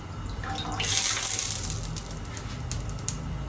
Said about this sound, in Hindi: ये पानी में इस तरह से डुबोएंगे रोटी को